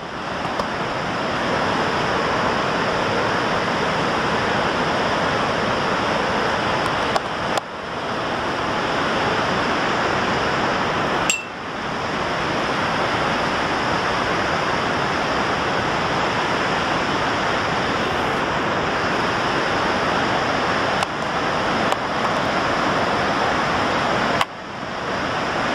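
Niagara Falls in New York roars as a continuous, loud, broadband rush of falling water. The wash holds steady for about 26 seconds with only brief dips and no voices.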